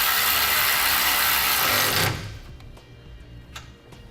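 A bolt threaded back into its original hole on a 2018 Ford F-150 while a CURT custom-fit trailer hitch is installed: a loud steady whir for two seconds, then quiet ticking and light clicks close by.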